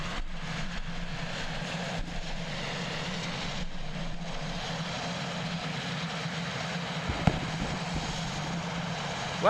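A Sounds Air Pilatus PC-12 turboprop at Christchurch Airport gives a steady, moderately distant engine drone that holds throughout without talk.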